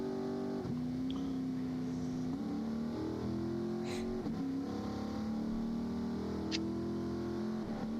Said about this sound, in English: sitting in the pits and listening to the other cars go through